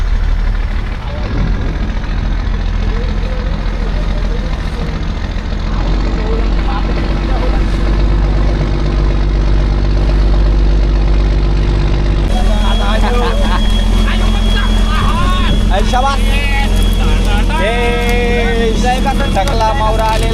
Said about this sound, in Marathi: इथून खूप जवळून बोट चाललेली आहे.